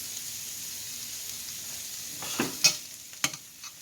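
One large garlic clove sizzles softly in an oiled pan for quinoa fried rice, with a quiet hiss that rises into a few crisp spatula scrapes and clicks near the end.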